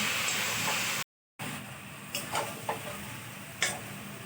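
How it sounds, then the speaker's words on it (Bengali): Kalmi greens (water spinach) fry in a pan with a steady, close hiss of sizzling, broken by a brief gap, then a few light clicks and scrapes. "চলো আমি শাকটা ভেজে নিই"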